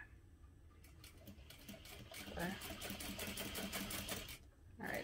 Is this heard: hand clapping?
no